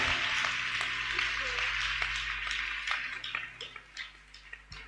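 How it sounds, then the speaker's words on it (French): A church congregation claps to welcome their pastor, with steady applause that thins into separate claps over a low hum and some background voices. "Put your hands together in order to welcome him."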